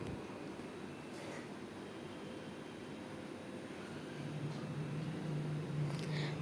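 Steady low rumble inside a moving passenger train on a rainy-season journey toward Darjeeling, continuous and close, swelling slightly louder toward the end, with a faint hum and no talk.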